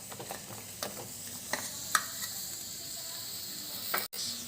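Jaggery stirred into hot water in a pot, quiet scraping strokes of a spoon against the pot at irregular intervals over a faint background hiss.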